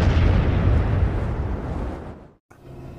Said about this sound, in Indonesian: John langsung meledakkan pompa pengisian bahan bakar